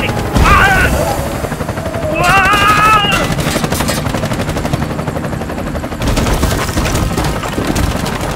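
Heavy gunfire in Bright Memory Infinite, loud and sustained under an aerial attack with rapid bursts, shrill sweeping tones and a rumbling helicopter-like drone throughout, no clear voice.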